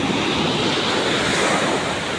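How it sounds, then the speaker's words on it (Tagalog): Big waves breaking on a river mouth on a Saturday morning, a steady loud wash of surf with constant wind rumble, no one speaking. "At napakalalaki ng alon."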